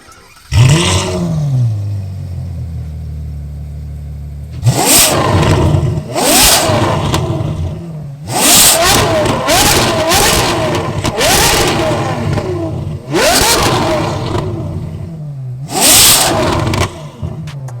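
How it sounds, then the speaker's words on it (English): A Ferrari F12 Berlinetta V12 fitted with an IPE titanium exhaust starts up, then gives several loud, sharp revs in separate bursts, each rising and falling back to a rumbling idle between them, heard close up. "So you just heard the F12 Berlinetta's IPE titanium exhaust."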